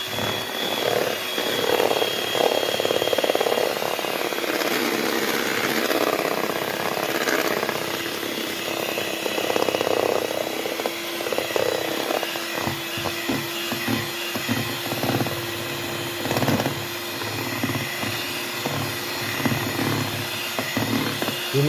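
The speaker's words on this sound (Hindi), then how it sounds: "अब इनको अच्छी तरह फेंट रहे हैं अपने।" An electric beater whirs continuously as eggs are beaten into cake batter in a home kitchen, a steady motor drone close by with slight changes in tone as the mixture is worked and no talk.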